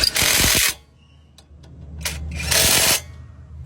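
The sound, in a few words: impact hammer tightening bolts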